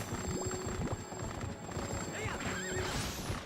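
Rhythmic clip-clop of hooves under a horse's whinny with a wavering pitch, close and continuous, in Twilight Princess.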